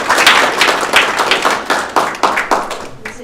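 An audience at a school student-of-the-month presentation claps steadily, a loud, close burst of hand claps in an even rhythm lasting a few seconds.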